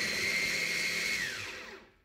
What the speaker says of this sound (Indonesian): ini udah aku masukin ke blender tanpa air ya, langsung di blender aja